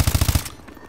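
Call of Duty Advanced Warfare gunfire: a rapid burst of about five loud automatic shots in under half a second, then fading echo and quiet game ambience.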